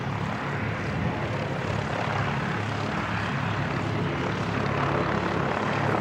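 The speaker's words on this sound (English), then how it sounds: "Waiting for one of the Aero Club Tomahawks just to land." A small Piper Tomahawk propeller trainer from the aero club comes in to land at Christchurch Airport, its engine a steady, moderately distant drone that continues evenly throughout, with no talking.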